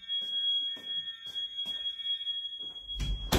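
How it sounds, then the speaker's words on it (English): A fire alarm beeps in a steady, repeating pulse beneath a high continuous tone, with a loud rustling burst near the end. "the fire alarm is going off"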